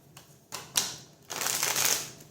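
A deck of cards riffled and shuffled in a few quick bursts, crisp rapid fluttering close by, with brief pauses between passes.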